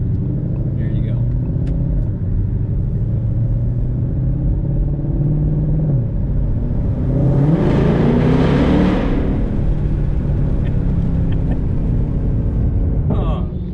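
A 2020 Ford Mustang Shelby GT500 engine rumbling while driving through a tunnel, steady deep drone that swells briefly in a louder rush, with echoing road noise throughout.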